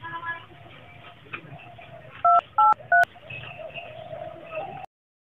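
A mobile phone's keypad gives three short, evenly spaced dialing beeps, loud and close, over a quiet indoor background with faint murmuring.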